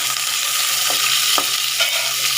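Tengra fish frying in a pan gives a steady, close sizzle with a few soft stirring scrapes, and no one talks.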